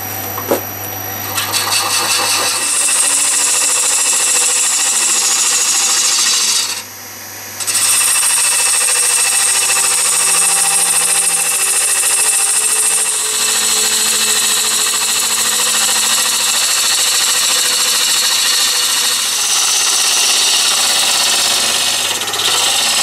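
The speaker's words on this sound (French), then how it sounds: "je vais percer en biais de façon à suivre ce biais là pour que ça rentre bien dedans et que ça aille poser au fond" Power drill boring at an angle into cherry wood while building a bird feeder, a loud close continuous whine with a short motor start, a brief dip around the middle, then steady drilling with no talking.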